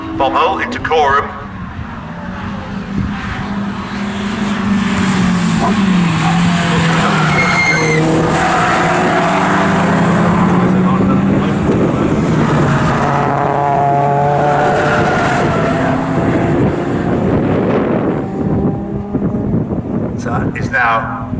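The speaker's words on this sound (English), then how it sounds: "as the cars emerge from Bombhole into Coram." Racing saloon cars in a Toyo Tires Racing Saloons race at Snetterton sweep past on track, engines roaring loud and close with rising and falling pitch and some tyre squeal, while a commentator talks throughout.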